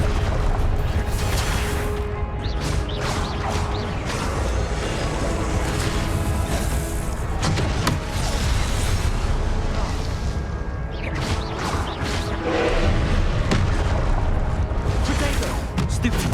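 Blasting spell explosions in the Hogwarts Legacy video game, repeated booming blasts with crackling bursts spread through the stretch, loud and dense with brief swells of impact, and a voice speaking between them.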